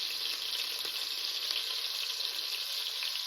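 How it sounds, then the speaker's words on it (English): Beef searing in oil in a pot for homemade stew, a loud, dense, continuous sizzle and crackle held close and steady throughout, with no voices. "get the other side seared"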